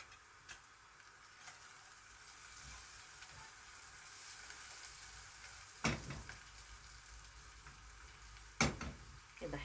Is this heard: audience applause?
no